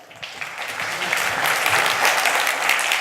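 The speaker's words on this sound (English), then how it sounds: "Stop clapping, there's no time." Audience clapping at a social media conference talk in Hong Kong, a dense wash of applause that swells from a quieter start and holds steady and full, with no voices over it.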